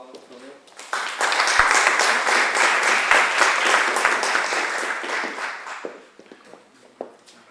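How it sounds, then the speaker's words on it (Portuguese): Audience applause at a civic talk in Moncorvo greets a speaker being introduced, a burst of clapping that starts abruptly, holds steady for several seconds, then thins out into a few scattered claps. "Assim sendo, Marco Ferreira, peço-vos uma salva de palmas, por favor."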